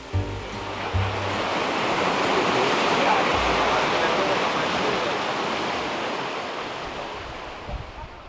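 Steady roaring wash of falling water from the waterfall at Hot Springs Cove on Vancouver Island, a broad continuous rush that swells slightly and then eases.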